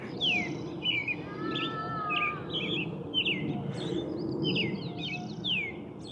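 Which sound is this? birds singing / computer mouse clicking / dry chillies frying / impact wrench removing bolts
birds singing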